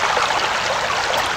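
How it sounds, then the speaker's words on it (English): Flowing water of a rivulet in the video game Anna, a steady, close trickling and bubbling stream sound, moderately loud and continuous with no speech. "A rivulet? It's a rivulet."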